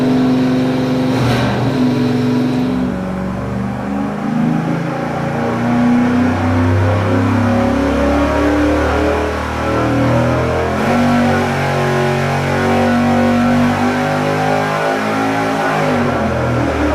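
A nitrous-fed, 150-horsepower-shot Chevy 305 V8 roars steadily on an engine dyno, loud and continuous with a brief blip near the start and a sustained full-throttle drone throughout, no voices.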